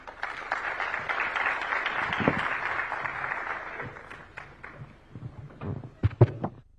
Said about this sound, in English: Great round of applause one more time for the panel and a wonderful discussion.